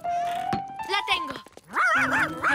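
A cartoon dog in an animated children's show barks and yips in short, bright, near bursts, mixed with lively animated voices speaking over and between the barks.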